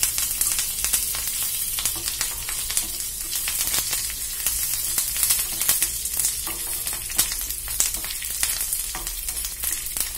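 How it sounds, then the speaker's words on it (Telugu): Mustard seeds, other tempering spices and dried red chillies sizzle and crackle in hot oil for a peanut chutney seasoning, a steady close frying hiss with dense sharp pops throughout and no talking. "పోపు దినుసులు వేగుతున్నాయి కదా"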